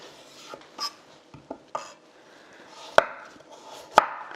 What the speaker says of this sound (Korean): 당근을 썰어 보겠습니다.